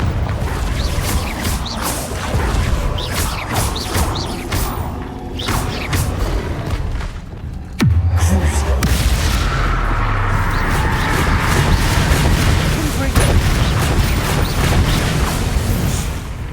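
Confringo fire spell blasts in the video game Hogwarts Legacy land as loud, dense booms and crackling impacts, with a heavy thump near the middle and busy mechanical rumbling throughout.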